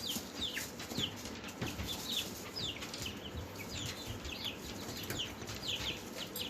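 Chickens in a mixed flock of big birds being introduced together cluck and scratch in a low, steady outdoor hubbub, with scattered brief wing flaps and chirps over constant background noise.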